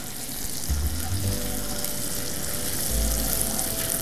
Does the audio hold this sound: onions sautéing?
yes